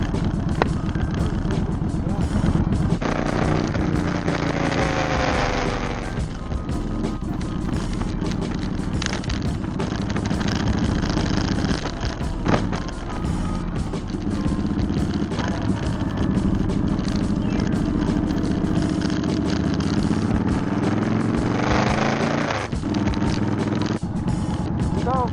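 A motorcycle rides along on a cold day, its engine droning steadily and loudly throughout with rising and falling tones as it shifts, mixed with heavy wind rush over the microphone.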